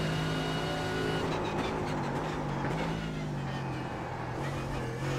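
GT3 race car engine in the iRacing sim at Monza, a loud continuous drone with shifting pitch as the car accelerates and changes gear, steady throughout.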